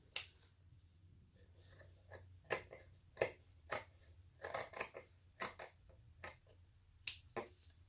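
Scissors cut fabric along a marked line in a sewing project, a series of crisp close snips at an uneven pace, quiet and alone.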